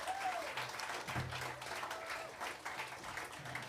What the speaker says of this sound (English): So thanks very much, and a round of applause,